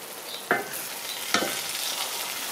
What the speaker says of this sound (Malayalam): ഇപ്പം ഞാൻ ഇതിലോട്ട് ഫിഷ് ഇട്ട് കൊടുക്കുന്നുണ്ട്.